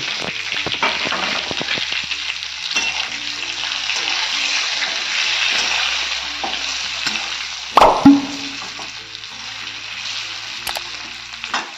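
Stuffed eggplants fry in a dry pan with a steady sizzle. Occasional scrapes and clinks from stirring are heard, with one sharper knock near the end.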